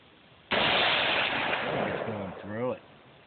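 A single loud gunshot fired outdoors at a jug target, sharp crack followed by a sustained echoing boom, with a voice briefly heard as it fades.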